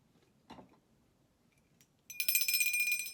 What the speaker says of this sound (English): Did you hear that sound? That's a bell.